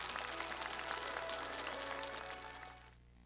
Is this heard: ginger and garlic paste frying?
no